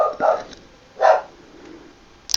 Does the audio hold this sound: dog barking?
yes